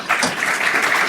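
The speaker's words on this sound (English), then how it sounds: "A round of applause for our wonderful" Brief burst of audience applause after a medical podcast talk on enhanced recovery after cardiac surgery, a short steady patter of many hands clapping.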